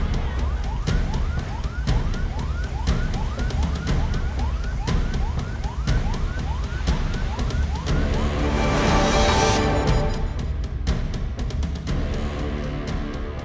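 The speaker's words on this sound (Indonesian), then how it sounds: "3 mobil pemadam kebakaran milik Pemkab setempat diterjunkan ke lokasi untuk memadamkan api." A loud wailing fire engine siren cycles rapidly up and down in a steady repeating pattern, close by, then shifts to a higher, harsher tone near the end.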